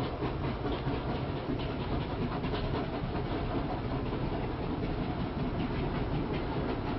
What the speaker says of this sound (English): A massive and very distinctive Pensy T1-4444 duplex rolls under the signal bridge at Englewood